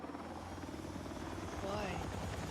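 A helicopter in an online multiplayer video game gives a faint low rotor thrum and drone, with players talking over it.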